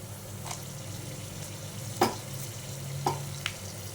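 Spices fry in hot oil for a chicken curry, along with coconut and a torn bay leaf. A low steady sizzle is broken by a few sharp crackles and stirring clicks, heard close with no talking.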